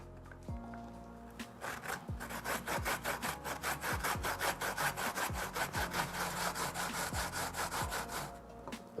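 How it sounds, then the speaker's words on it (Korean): Rapid, steady back-and-forth rasping of a quarter of a pear being grated on a grater, a rhythmic scraping close up, with a few soft knocks underneath. "배 4분의 1쪽 강판에 갈겠습니다"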